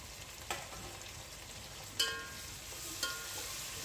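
Tomatoes frying in a pan for chicken biryani give a steady, fairly quiet sizzle, with three brief clatters as they are added and stirred.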